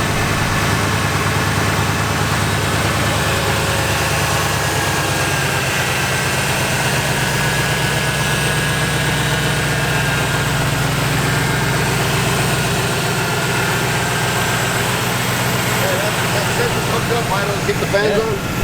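A Ford Fox body Mustang engine settles down to idle, a steady low rumble with fan and mechanical noise layered on top, close and continuous for the whole stretch, with no pauses.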